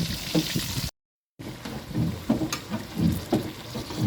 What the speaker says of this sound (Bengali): অল্প অল্প করে ভাজে নেব ফাঁকাতে